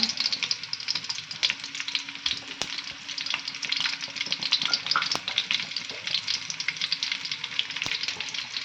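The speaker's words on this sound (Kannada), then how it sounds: "ಕರಿಪತ್ತನ್ನು ಹಾಕೋಣ" Curry leaves hit hot oil for tempering, giving a steady, close sizzle with crackling pops and a few sharper spits throughout.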